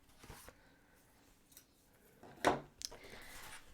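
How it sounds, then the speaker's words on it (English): Scissors trim excess paper card from a handmade card: a few quiet, close snips, one crisp cut standing out in a near-silent room. "I am going to just flip this over and trim off some of the excess"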